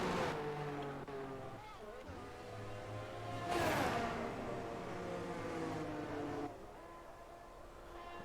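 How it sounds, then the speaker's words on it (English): Onboard race car engine in the F1 22 video game during a sprint race at COTA, USA: a steady, loud harmonic engine drone with rising and falling pitch as the car shifts and accelerates, filling the whole stretch. "Onboard car sound goes over my voice."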